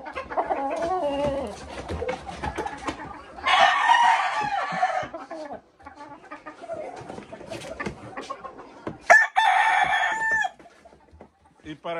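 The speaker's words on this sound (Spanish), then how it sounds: "Aquí está el gallo giro, Suárez McGuinness." Grey gamecock roosters crow in bursts with steady clucking from hens between, a busy farmyard chorus heard close by on a California farm.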